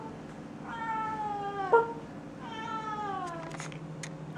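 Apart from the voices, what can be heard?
cats meowing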